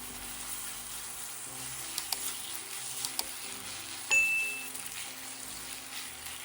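Jjajang powder being stir-fried in a pan for rice cake tteokbokki gives a low, steady sizzle, with a few faint scraping clicks of a utensil stirring and one brief bright ding partway through.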